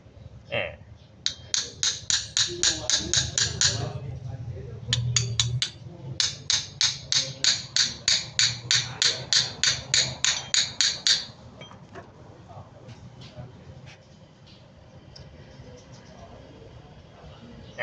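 A size 12 T-wrench handle taps a brake caliper in steady bursts of rapid metallic knocks, loud and close, repeating in quick runs for about eleven seconds before stopping, with low workshop noise underneath.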